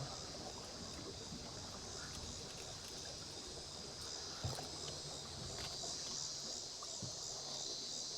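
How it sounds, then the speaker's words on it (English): Water rushes and babbles steadily in an unbroken, even flow, fairly quiet and with no talking. "they're running quite a bit of water now"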